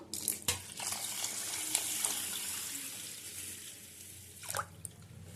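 Water runs and splashes steadily into a cooking pot holding washed rice and lentils for khichdi in a home kitchen, a continuous close pour with a few sharper splashes at the start and near the end.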